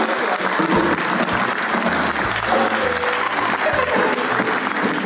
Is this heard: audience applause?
yes